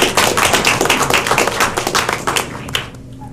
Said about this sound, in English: We still applaud.